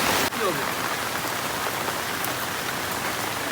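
Steady rain falls throughout, a dense even hiss of drops close by with a brief sharp tap near the start and no talking.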